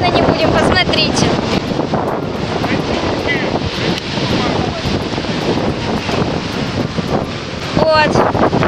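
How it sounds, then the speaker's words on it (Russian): Large sea waves crash and surge on a beach under strong wind, with loud continuous roaring surf and heavy wind buffeting against the microphone, and voices talking faintly beneath. "пришли, а тут огромные волны"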